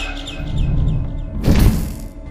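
Bird calls from the video game Garten of Banban 6 sound as a series of repeated chirps over a low rumbling game ambience, followed by a louder burst.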